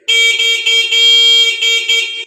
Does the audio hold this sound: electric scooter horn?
yes